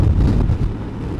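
Wind rushes and buffets against the microphone in a steady low roar, with no voices.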